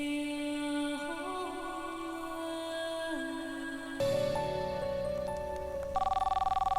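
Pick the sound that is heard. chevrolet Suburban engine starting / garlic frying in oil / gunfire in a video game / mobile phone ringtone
mobile phone ringtone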